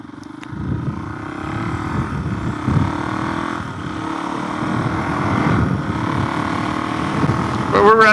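A Suzuki DRZ400S stroker motorcycle engine runs while riding, a steady low drone that rises and falls with throttle and wind, under a rider talking throughout.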